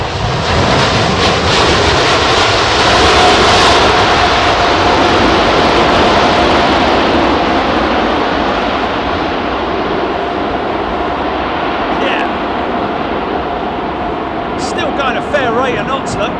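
An airliner touches down in gusty wind at London Heathrow, its engines a loud, steady broadband roar with wind buffeting the microphone throughout; people talk excitedly over it.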